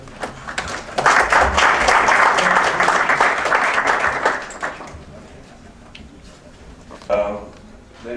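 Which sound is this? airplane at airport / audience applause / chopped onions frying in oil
audience applause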